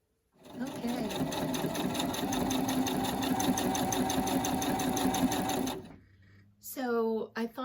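A newly bought home sewing machine runs steadily for about five and a half seconds, a loud, even mechanical whir with rapid needle ticking, then stops; a voice speaks briefly afterward.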